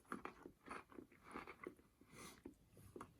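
Someone chews a crunchy MRE cracker spread with peanut butter, with steady rhythmic bites and crunches close to the mic, quiet overall and with no talking.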